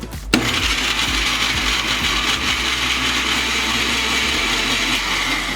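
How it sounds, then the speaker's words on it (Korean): A blender starts abruptly and grinds tomatoes steadily at high speed, loud and close, running without a break. "토마토 믹서기에 갈아서"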